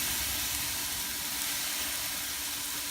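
Garlic hitting hot oil gives a loud, continuous hissing sizzle that stays even and unbroken from start to finish.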